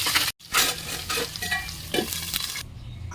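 Potato pieces with a pinch of turmeric and salt fry in hot oil in a wok, a loud, dense sizzle with crackling bursts and stirring scrapes, broken by a brief gap.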